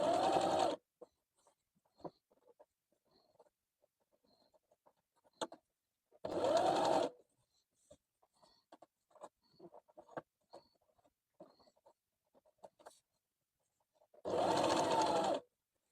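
Sewing machine stitching fabric for a dress, heard as three loud, fast bursts of whirring stitching separated by quiet pauses filled with faint handling clicks and taps, close up with no talk.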